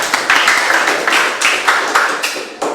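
Applause breaks out from a classroom audience, several bursts of clapping close and fairly loud, ringing on for a few seconds.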